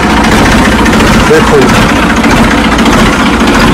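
A 575 tractor engine runs at a steady idle, a constant low rumble close by, while someone talks over it.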